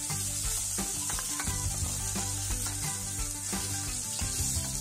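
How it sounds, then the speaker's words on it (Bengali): Fish fries in hot oil with a dense, continuous sizzle, close and steady, broken now and then by brief scrapes and stirring clicks, with no voices. "বাকি মাছগুলো এইভাবে ভালো করে ভেজে নিতে হবে"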